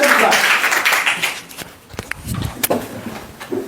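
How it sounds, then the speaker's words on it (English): Students in an English class clap for a classmate in a short burst that fades within about a second and a half, followed by scattered thumps, footsteps and bits of talking in the room. "Let them clap."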